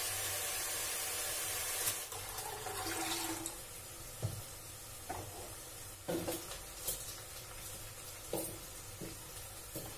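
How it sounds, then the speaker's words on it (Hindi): Coriander leaves are rinsed under a running kitchen tap, with a steady rush of water for the first few seconds that gives way to scattered splashes, drips and handling noises close by. "धनिया पत्ती इसको भी धो करके साफ कर देती हूँ।"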